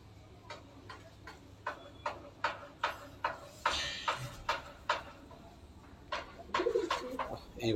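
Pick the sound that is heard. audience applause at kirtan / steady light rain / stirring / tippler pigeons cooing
tippler pigeons cooing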